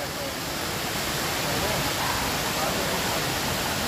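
A waterfall in Goa, heard as a loud, continuous broadband rush of falling water, steady and close, with no pauses.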